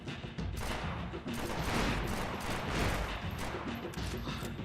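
Gunfire in a shooting video game, a dense run of loud overlapping shots and bursts that fills the whole stretch with little let-up.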